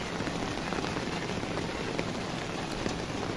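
Steady rain falls over farmland, a dense, even patter close by with no talking.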